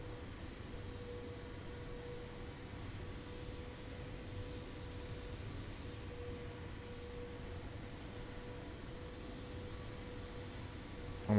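A simulated CRJ900 jet rolls for takeoff from runway 18 at Frankfurt in Microsoft Flight Simulator 2024, a steady, moderate engine roar with a faint constant whine and no speech.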